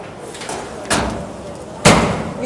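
A commercial Douglas pan washer door is pulled shut with a solid thud, with a lighter door bump before it, heard at a trade show floor amid faint room noise.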